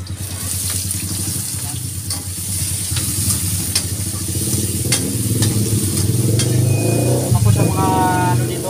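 Garlic and onion sizzle steadily in a hot frying pan for squid adobo, a constant loud frying hiss with stirring scrapes, while passing traffic and outdoor street noise sound faintly behind.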